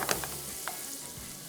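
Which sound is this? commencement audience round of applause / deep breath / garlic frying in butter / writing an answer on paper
garlic frying in butter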